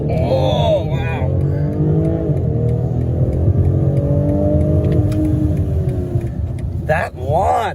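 A 2021 BMW X3 M40i with sport exhaust launches hard in sport mode, its engine a loud, steady rumbling roar that climbs in pitch through the run, with a brief voice near the end.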